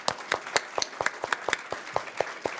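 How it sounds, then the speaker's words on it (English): A small group claps at a conference, the individual hand claps distinct and uneven, a brief round of applause with no talking over it. "Shall we give them a round of applause?"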